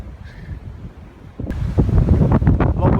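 Strong wind gusting through winter woods at a hammock campsite, a low buffeting roar that swells louder halfway through and rumbles against the microphone.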